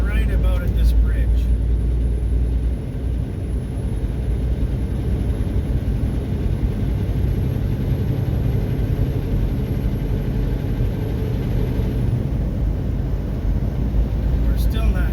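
A pickup truck accelerates toward 60 mph on a road approaching a bridge, giving a steady, loud low engine and road rumble that holds throughout, with a faint high whine above it.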